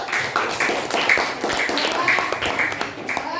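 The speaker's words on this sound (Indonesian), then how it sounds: "Nah, tepuk tangan dulu." Applause breaks out in a school group-presentation session for a teachers' coaching practice, a small group of people clapping in quick uneven bursts close by, with a voice talking over part of it.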